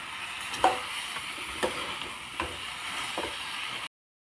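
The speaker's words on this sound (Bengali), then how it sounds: "কুচি করা ধুন্দুল দিয়ে দেব। এখন নাড়াচাড়া করে নিব।" Dried shrimp curry with chopped ridge gourd being stirred, a gentle sizzle under a handful of spaced spatula knocks against the pan, ending abruptly in silence.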